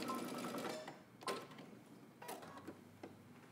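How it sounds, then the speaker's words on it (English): A sewing machine backstitches the seam of swim trunks, a steady close mechanical whir for about a second, then short separate bursts of stitching with brief pauses between them. "Backstitch at the end."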